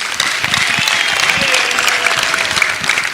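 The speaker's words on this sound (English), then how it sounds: "let's give a big clap to our 7 great presenters or pitchers" A conference audience at the YouLead Summit 2023 business leaders forum applauds seven presenters and pitchers, with dense, steady clapping from many hands that fills the room at a sustained loud level.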